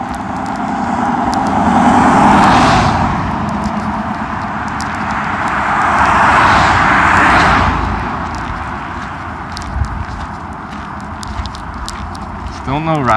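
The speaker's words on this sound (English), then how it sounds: "I can see cars as they approach me." Cars on a road near Hampstead, North Carolina approach and pass a walker facing traffic. Two broad swells of tire and engine noise rise and fade over several seconds while someone talks throughout.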